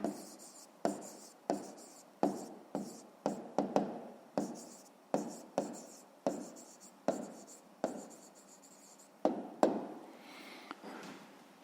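A pen writes on paper in a quiet room, with close, soft scratching strokes in short regular bursts, each starting with a light tap, about a dozen of them in a steady rhythm.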